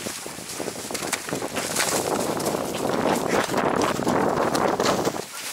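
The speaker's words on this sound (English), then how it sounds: "You're making my horse spooky." A horse walks during a fox chase in the Maryland countryside in December, with steady hoof clip-clops under heavy wind and outdoor rustle.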